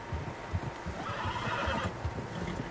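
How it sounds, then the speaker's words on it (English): Several horses in the video game Red Dead Redemption 2 whinny and snort in the middle distance, a neigh rising over a soft bed of hoof clops and outdoor ambience, fairly faint with no talk. "Horses, quite a few of them."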